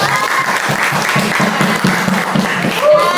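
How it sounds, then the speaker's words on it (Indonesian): Students in a physics classroom clap for all the groups after an electricity lab practical, a loud burst of close applause with voices chattering and calling out over it. "Tepuk tangan untuk semua kelompok."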